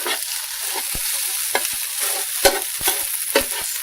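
Crumbled lentil burger being stirred into scrambled egg in a hot pan, a steady close sizzle with intermittent scraping strokes of a utensil against the pan.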